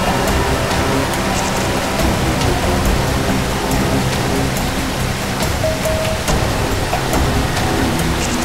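A waterfall roars as a dense, constant wash of loud rushing water, steady and close, with no pauses or speech.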